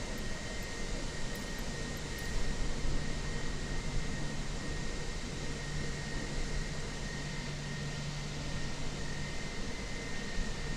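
Fenix A320 airliner engines idling while taxiing in Microsoft Flight Simulator, a steady broadband jet rumble and hiss with a faint constant whine, unbroken and fairly loud, no talking.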